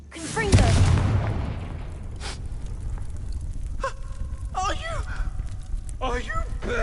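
A Confringo fire spell erupts in a Harry Potter video game as a loud, sudden blast that swells and fades over a second. Steady background ambience and short vocal sounds follow.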